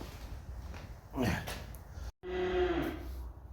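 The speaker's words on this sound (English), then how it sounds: "excuse the cows this morning, they seem to be a bit hungry" A cow lets out a long, low moo close by, followed after a brief pause by a second, steadier moo over faint outdoor background noise.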